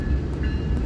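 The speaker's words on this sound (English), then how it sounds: "And this is a southbound on the BNSF Sioux City sub." A southbound BNSF grain unit train on the Sioux City subdivision rolls past nearby, giving a loud, steady low rumble with a faint higher whine above it.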